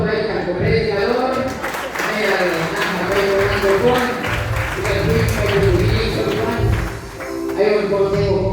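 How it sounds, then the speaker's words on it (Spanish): Congregation at a community preaching gathering in San José Patriarca clapping for the preacher, continuous loud applause mixed with an amplified voice speaking over it. "un fuerte aplauso para el predicador"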